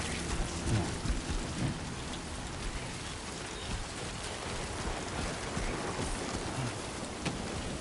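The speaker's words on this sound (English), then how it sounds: "Raindrops are falling on my head." Steady rain from the Death Stranding 2 video game, a dense hiss of drops pattering on surfaces with low rumbling underneath, continuous and fairly loud throughout.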